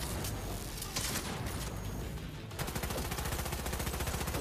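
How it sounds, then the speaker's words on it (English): Sustained automatic fire from a light machine gun in Cyberpunk 2077: a loud, steady rapid stream of shots that briefly dips, then resumes in an even, continuous rhythm, no talking. "LMGs for the win."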